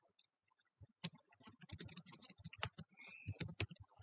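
Rapid keystrokes from a computer keyboard as Java code for a binary search is typed, a close, irregular run of crisp clicks and clacks with short pauses between bursts, heard alone without talking.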